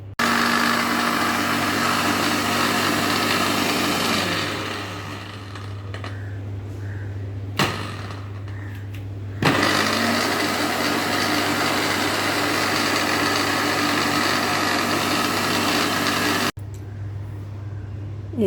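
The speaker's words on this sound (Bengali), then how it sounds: "হেল্পিং হ্যান্ড ছাড়াই আপনি পাটায় বাটার ঝামেলা ছাড়া ব্লেন্ডারে ভর্তা একবার বানিয়ে খেয়ে দেখুন" An electric blender grinds boiled jackfruit seeds and loitta dried fish into a mash with a loud, continuous motor whine. It slows and drops in level midway, stops briefly twice, restarts, then cuts off near the end.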